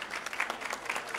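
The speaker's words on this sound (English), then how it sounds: "So we can have a clap for them." A seminar audience claps for the quiz winners at a radiology lecture, a brief patter of many hands at moderate volume with no voices over it.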